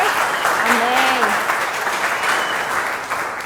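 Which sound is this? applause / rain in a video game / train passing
applause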